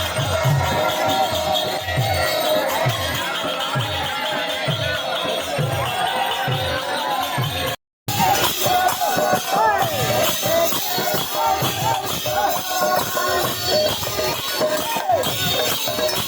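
Crowd of devotees surging for prasad showered from atop the chariot at a chariot festival, a dense outdoor hubbub of voices and shuffling with scattered shouts, steady throughout with a brief cut midway.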